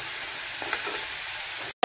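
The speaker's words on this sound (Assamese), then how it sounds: "এইখিনি মাছখিনি এতিয়া ভালদৰে অলপ ভাজি ল'ম।" Fish pieces frying in a pan with oil, giving a steady sizzle throughout, with a faint stir or scrape midway and a brief drop to silence near the end.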